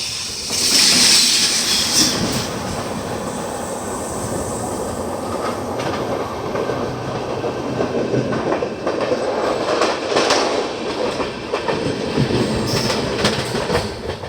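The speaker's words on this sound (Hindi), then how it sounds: "और सामने से आ रही है लखनऊ नई दिल्ली IRCTC तेजस एक्सप्रेस।" The Lucknow–New Delhi IRCTC Tejas Express approaches and rolls past on the rails with a continuous rumble, rhythmic wheel clatter and some high squeal, heard close by.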